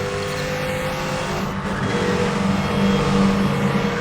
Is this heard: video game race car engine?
yes